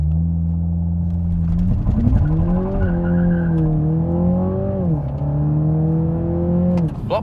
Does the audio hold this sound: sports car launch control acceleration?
yes